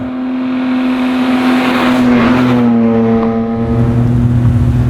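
A BMW E30 with a swapped S54 inline-six engine cruising, a loud, steady engine drone from inside the car that swells slightly mid-drive, with no talking.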